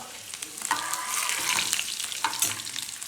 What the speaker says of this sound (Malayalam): കടുക് വറക്കുന്നത്.